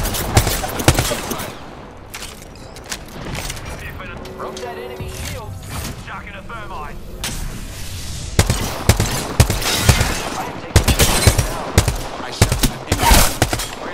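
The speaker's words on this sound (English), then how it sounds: "I am taking fire, friends." Apex Legends ranked arena match: bursts of gunfire crackle throughout with mechanical clicks and creaks, the shots growing denser and louder toward the end, close and sharp.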